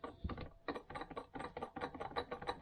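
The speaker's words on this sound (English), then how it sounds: "That's just me rocking the input shaft back and forth" Repeated mechanical clunks and ratcheting clicks in an uneven back-and-forth rhythm, close up, as the input shaft of a 1971 Triumph Stag gearbox in gear is rocked and metal parts knock against each other with play.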